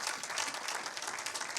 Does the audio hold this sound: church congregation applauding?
yes